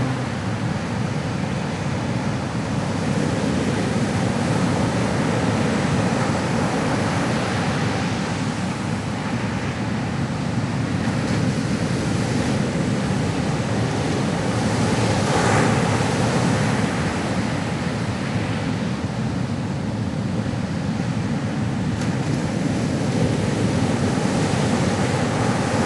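Ocean waves wash in a continuous, loud roar of surf, broad and steady throughout with gentle swells in intensity and a faint wind rush, no voices present.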